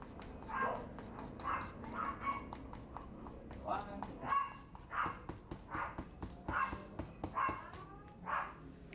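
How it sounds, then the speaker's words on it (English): Dogs bark in quick, uneven bursts close by during an acrylic painting lesson, a steady string of loud yips and woofs, with a person speaking between them. "Sorry about the dogs around."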